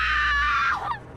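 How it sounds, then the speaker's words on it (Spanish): A woman's sharp, high scream rings out from the house next door, holding for most of a second before breaking off and trailing away. "Ese ruido no era otra cosa que un grito"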